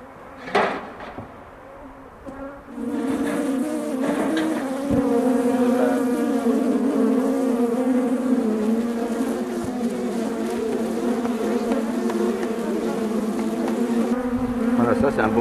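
Dense buzzing of many honeybees swarming up close around a hive, a continuous drone after a few knocks and rustles at the start.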